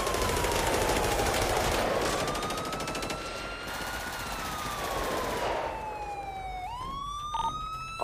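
Gunfire and wailing police sirens from a GTA V roleplay shootout, the sirens sweeping up and down loudly throughout with dense, rapid bursts of shots layered into the noisy mix.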